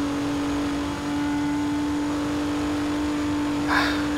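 Race car engine from the video game DTM Race Driver 3, a steady droning whine held at a constant pitch as the throttle stays open, moderately loud with a brief extra burst near the end.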